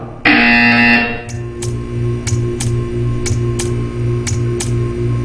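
A loud electronic buzzer sounds in the Portal 2 game, a harsh sustained tone for about a second, followed by a steady low hum and a regular ticking pulse repeating roughly every half second.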